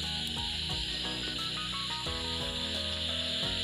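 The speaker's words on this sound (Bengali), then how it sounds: "আর এবার আর কিছু সময় নাড়াচাড়া করে ভেজে নিতে হবে।" Potatoes mixed with moringa leaves frying in a pan give a soft, steady hiss, with faint clinks of stirring scattered over a background of music.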